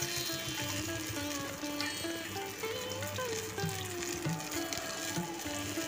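Ridge gourd slices fry in hot oil with a soft, steady sizzle under background music tones, faint and continuous throughout.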